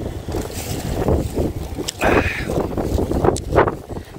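Gusty wind buffets the microphone with low rumbling bursts, alongside faint outdoor background noise and a brief tonal squeak.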